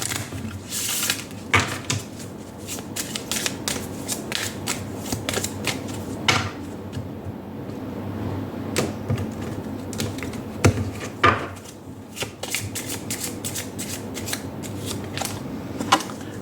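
Tarot oracle cards from a Romance Angel Oracle deck being shuffled and drawn, quick crisp riffling flutters and soft card slaps in repeated bursts, close and clear with no talking.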